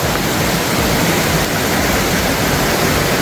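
Mountain stream and waterfall pouring out of Dream Lake in Rocky Mountain National Park, a loud, steady, close rush of water with no break.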